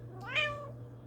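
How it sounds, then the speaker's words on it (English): A pet cat gives a single clear meow, rising then falling, close by and alone over a steady low hum in a quiet home. "You can hear the kitty boy just meowing."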